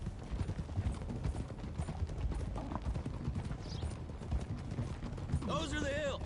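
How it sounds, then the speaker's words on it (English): Horse hooves clip-clop at a steady pace in Red Dead Redemption 2, a rhythmic clatter under ongoing voices, with a brief whinny near the end. "I was too busy watching what Bill was doing on his horse there and just ramming right into John."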